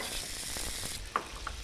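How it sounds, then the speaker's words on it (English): Cherries sizzle in butter in a red hot pan, a steady soft frying hiss with faint scraping clicks near the end. "you have a red hot pan, you put your cherries in. Sizzle them."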